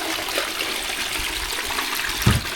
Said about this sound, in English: So I flush the toilet first.